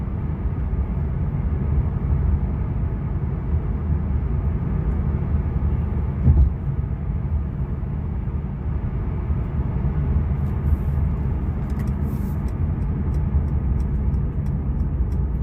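A 2017 Mercedes-Benz C300 on the move, heard from inside as a steady low road and engine rumble with a faint tick or two late on, no talk.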